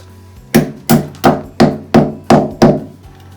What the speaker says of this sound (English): And then I take a hammer once that's done,